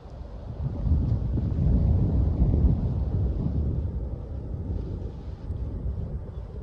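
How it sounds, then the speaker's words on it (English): Low, rumbling wind buffets the microphone steadily throughout, loud and close, swelling slightly early on, with no voices. "It's a little windy."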